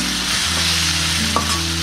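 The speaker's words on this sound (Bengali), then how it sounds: "এখন এই সব মশলাগুলো পেঁয়াজের সাথে ভালোমতো কষিয়ে নেব" Onions and ground spices such as coriander powder sizzle steadily in a pan over medium-low heat for a hilsa curry, with a continuous frying hiss and a few brief clinks of stirring.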